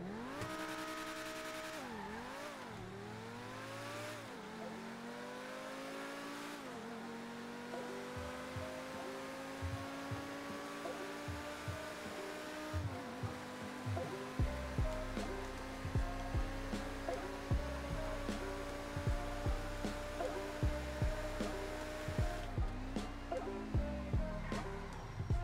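A fully customized T20 supercar in the video game GTA Online revs and shifts through gears, its engine whine rising and dropping, then settling into a sustained high-speed drone with rhythmic thumps and tire noise.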